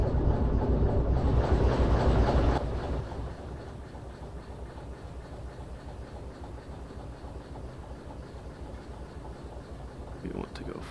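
Boxcars of a freight train roll along in the Derail Valley train-driving game, with a steady clickety-clack rhythm under a continuous low rumble, louder at the start and then settling to a moderate, even level.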